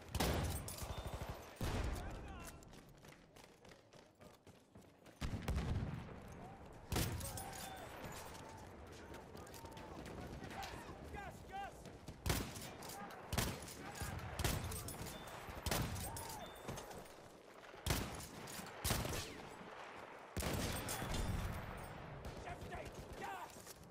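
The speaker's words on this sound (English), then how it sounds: "an enemy machine gun!" Machine gun fire in the Battlefield 1 video game, set at Fort de Vaux, crackles in loud repeated bursts with short gaps between volleys, continuing throughout.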